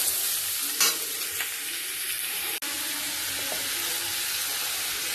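Radish and green chillies frying in a pan, with a steady loud sizzle throughout and a few scraping stirs of the spatula, without any talk.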